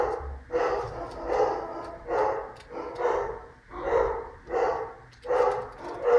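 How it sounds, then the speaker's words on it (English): Several dogs bark indoors in repeated, loud bursts about once a second, a steady run of barks with short gaps between them. "I'm sorry about my dogs barking."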